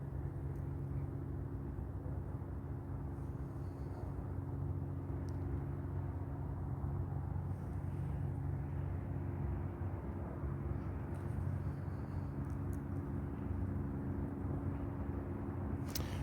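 An EVO 2 drone throttles up, its rotors giving a steady, loud droning whir with layered tonal hum that holds constant throughout.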